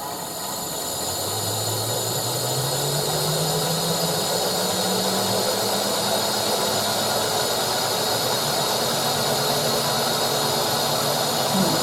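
A wood lathe with a natural live-edge cherry bowl blank mounted spins up, its motor whine climbing steadily in pitch over a loud, constant hissing rush, close and continuous with no voices.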